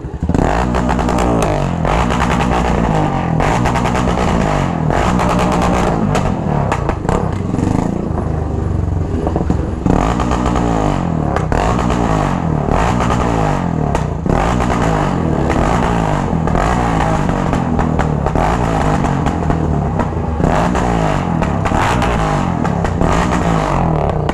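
A motorcycle engine roars loudly up close during a large group motorcycle ride, revving repeatedly with rising and falling pitch and some mechanical clatter, over a long continuous stretch.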